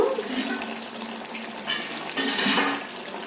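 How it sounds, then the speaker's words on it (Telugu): A glass of water is poured into mutton curry in a pressure cooker close by, a soft splashing gurgle that swells toward the end, with faint clinks of cookware. "ఒక గ్లాసు వాటర్ పోసుకొని గ్రేవీకి తగ్గట్టు"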